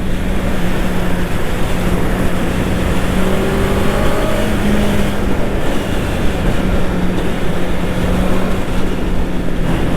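Continuous loud road noise, with wind rush and a steady engine drone, as a motorcycle or car passes on the road. A faint tonal hum rises briefly in the middle.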